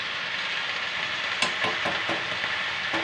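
Chow mein sizzles steadily in a hot pan as white vinegar is poured in, a continuous close frying hiss with a few brief sharper bursts and stirring scrapes midway, no voices.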